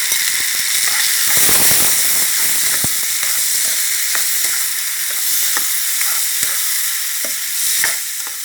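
Gourd stir-fried with fermented soybean paste in a hot wok, a loud continuous sizzle broken by sharp spatula scrapes and clacks, with no voices.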